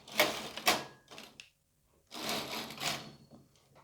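Carriage of a knitting machine slides across the needle bed in two rattling, clacking passes, close and moderately loud, with a short silent gap between them.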